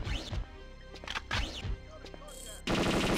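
Falcon 2 pistol shots ring out in Perfect Dark, several sharp reports spread over a few seconds amid other game sounds, followed by a dense burst of noise near the end.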